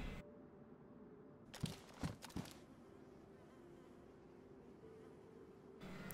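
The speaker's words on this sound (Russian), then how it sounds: "И мне кажется, или я слышу мух. И они идут вроде как от этого дома." Flies buzz faintly near a building in DayZ, a soft steady drone with a few louder rustling bursts in the middle.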